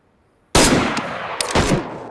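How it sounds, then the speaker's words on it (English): Automatic gunfire in a DayZ PVP match on PS5, a sudden loud burst of rapid shots followed by a second close volley, with no talking. "I'm shooting at him."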